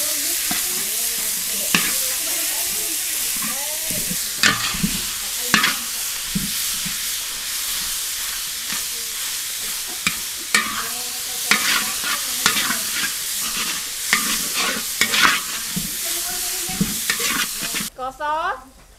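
Garlic stir-frying in a hot pan, with a steady loud sizzle and frequent sharp scrapes and knocks of a utensil against the pan, ending in a brief burst of crackling.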